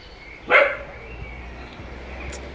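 One short, sharp dog bark rings out close by, then quiet background hum with a faint yip near the end.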